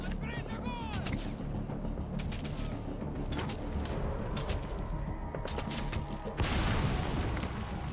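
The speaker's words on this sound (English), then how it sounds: "There's an explosion back there." A broad, rumbling blast erupts late in a Metal Gear Solid 5 firefight, following a run of sharp gunshot cracks and mechanical clatter, with speech faintly present amid the din.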